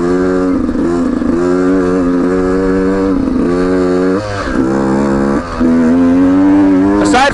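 A Beta 125 RR Race Edition two-stroke motorcycle is ridden, its loud, buzzy engine holding a steady high drone, with brief dips and a surge near the end as the throttle changes.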